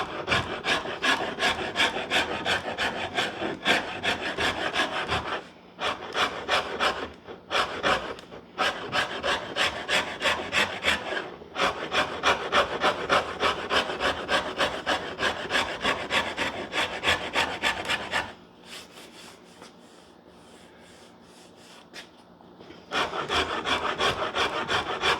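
Coarse file rasping along a hardwood guitar neck during contouring, close and steady: long runs of rapid back-and-forth strokes with brief pauses, a quieter stretch near the end, then rasping again.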